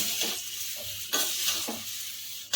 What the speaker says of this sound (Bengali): আমি পুরো মশলাটাকে দেব আবারও ভালো করে মিশিয়ে নেব